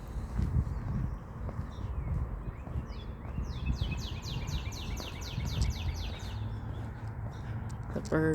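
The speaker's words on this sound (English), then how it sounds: "The birds are certainly loud this morning." Birds chirp and call along a nature trail beside the Rideau River on an overcast morning. A run of quick, fairly faint repeated chirps sits over steady outdoor background noise.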